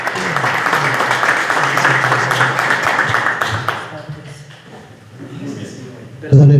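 An audience applauds for Monseñor at a synodal gathering of the Prelature of Huancané, with sustained clapping over a few seconds that fades, followed by a voice speaking near the end.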